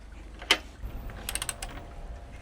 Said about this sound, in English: Now we're going to tighten these to 49 newtons.